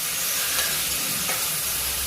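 Onion frying in a pan for kurdai bhaji, a steady close sizzle and hiss with soft stirring, continuous and fairly loud with no talk.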